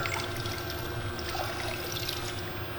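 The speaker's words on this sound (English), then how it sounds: "rinse that into clean water" Continuous splashing, trickling water as a detailing cloth or mitt is rinsed in a bucket of clean water while washing a Chevy Camaro 1LE, steady and fairly close, with no talking.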